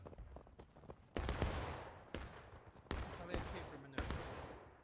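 Musket volleys ring out in the War of Rights Civil War video game, several sharp loud cracks roughly a second apart with rolling echoes, amid shouting from players.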